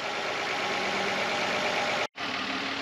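A repaired V6 Honda Legend engine runs steadily at idle, a close, even hum with a brief dropout near the end.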